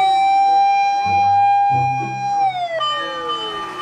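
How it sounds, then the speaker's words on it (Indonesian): A toy fire truck siren wails loudly and electronically, holding a steady tone before sliding down in pitch, with faint mechanical clicks underneath. "ini adalah mainan mobil truk pemadam kebakaran juga teman-teman ya, atau fire truck ini"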